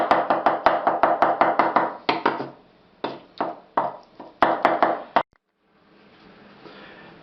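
A knife chops eggplant thin on a cutting board in quick rhythmic bursts of sharp, close strikes, pausing briefly between runs, then giving way to soft rustling at the end.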